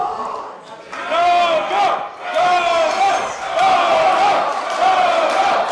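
Wrestling crowd at a DFW All Pro Wrestling event roaring and chanting for a wrestler, a loud, sustained wall of massed voices with rising and falling surges of yells and battle cries.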